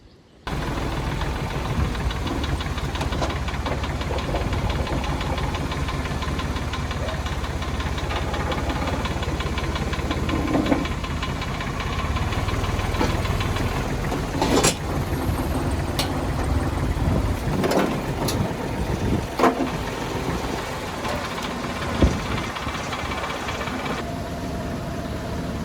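A £100 ride-on tractor mower engine runs in a workshop with a steady, knocking chug throughout, with occasional sharper clanks and pops over the continuous drone.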